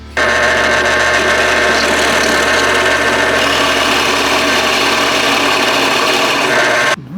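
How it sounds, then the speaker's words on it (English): A power drill boring recesses into a wooden board to hold corks, a steady loud whirring grind running unbroken for about seven seconds, then stopping abruptly. "Now we're going to drill our recesses."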